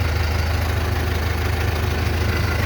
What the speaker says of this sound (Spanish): Espera, voy a apagar el tractor,